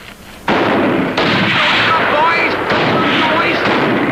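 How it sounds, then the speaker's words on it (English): Artillery and gunfire in a 1959 naval film, a sustained loud barrage of blasts and rumbling booms starting abruptly after a brief quiet lead-in, continuing densely with no clear pauses. "All right, men, open fire."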